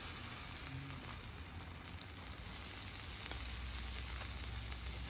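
A tortilla with butter and cheese cooks on a griddle, giving off a faint, steady sizzle with no break, close by and quiet.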